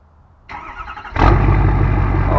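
A Ford 6.7 Powerstroke diesel pickup cranks and fires, jumping from a quiet starter whir to a loud, rumbling idle, heard close up.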